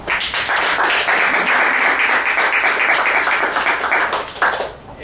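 Full, even applause from a seated audience at a political talk, sustained for several seconds before fading out with a few last claps.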